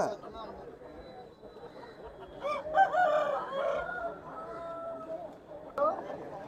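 A rooster crows once in the middle of the clip at a Saturday country-chicken market, mixed in with nearby voices and background chatter.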